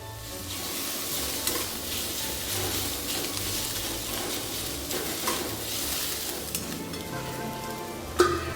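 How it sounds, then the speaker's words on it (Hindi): Sliced onions fry in a pan with cumin seeds that have already crackled, giving a steady, dense sizzle with occasional soft scrapes of stirring and a sharper utensil clink near the end. "जब जीरा कड़क जाए तब हम उस पर स्लाइस किए हुए प्याज को डाल देंगे और इसे हमें भूनना है।"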